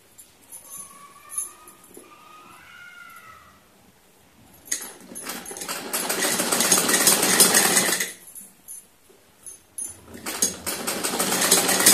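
A sewing machine stitches both side seams of a salwar in loud, steady bursts of whirring, the first running about three seconds and the second starting near ten seconds, with a fainter tonal hum and short pauses before them.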